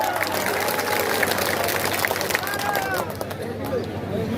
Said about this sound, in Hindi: जोरदार तालियां इसके लिए बजा हुआ